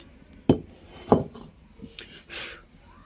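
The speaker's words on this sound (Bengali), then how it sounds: "আমি কড়া বসিয়ে দেবো" A kadai (wok) for frying fish is set on a stove with two sharp metallic clanks, followed by lighter scraping and rattling clinks nearby, no talking.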